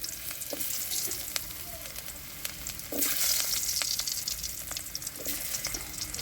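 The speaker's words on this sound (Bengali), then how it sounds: "জিরে হয়ে গেছে, এবার আলু দিয়ে দেবো।" Potatoes hit hot oil already seasoned with cumin seeds for a Bengali rohu fish curry, setting off a loud, continuous close sizzle with crackling spits throughout.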